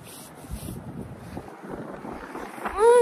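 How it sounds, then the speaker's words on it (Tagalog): Strong cold winter wind buffets the microphone outdoors, gusting in rough low rumbles with faint whooshing, fairly loud and steady throughout. "Samot kakusog ang hangin."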